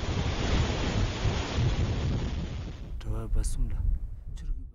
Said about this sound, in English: This rare footage shows a glacial lake outburst flood ripping through the village of Punaha in 1994